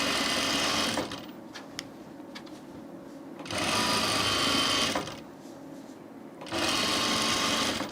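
A sewing machine stitches a rolled hem on solid linen for a Goldfinch Textiles Pierce shirt, running in two close bursts with a quieter pause between them filled by faint handling clicks.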